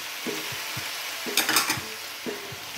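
Shrimp and carrot are stirred in a sizzling pan for fresh pancit, with a soft steady fry hiss and repeated scraping strokes of a spatula, close by, one burst of clattering in the middle.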